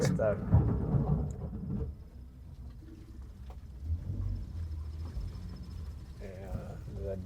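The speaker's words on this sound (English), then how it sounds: "Now look, now it rains." Thunder rolls over rain outdoors near Nairobi, a deep rumble that is strongest at the start and low throughout, with birds cooing and muffled voices in the background.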